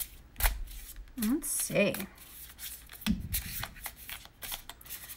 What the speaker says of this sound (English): I'm just gonna have to carry this deck around today and like shuffle it or something because it's just like really wants to be shuffled.